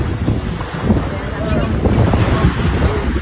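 A newly bought motor boat runs out at sea, its engine a steady droning rumble buried under strong wind buffeting the microphone and the wash of water, loud and continuous throughout.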